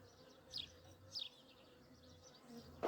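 Scout honey bees buzzing around a house before a swarm moves in, a faint, steady insect hum with a few brief louder passes as individual bees fly close by.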